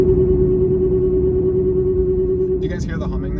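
A Mustang GT with an ESS supercharger and Cobra Jet parts cruises with its rear end whining, a steady tonal whine over a constant low engine and road rumble inside the car, with a brief voice near the end.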